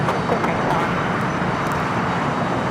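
A 12-year-old Boeing 787-8 Dreamliner arriving from Toronto at Los Angeles LAX, heard as a steady broadband jet roar throughout, moderately loud and unbroken, with faint voices in the background.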